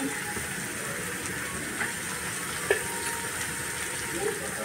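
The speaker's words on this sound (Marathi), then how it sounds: "आता मी हे सोयाबीन टाकते, एक चमचा मालवणी मसाला टाकते" Soya chunks and a spoonful of Malvani masala frying in a pan for Maharashtrian soybean bhaji, with a soft, steady sizzle and a few faint stirring clicks close by.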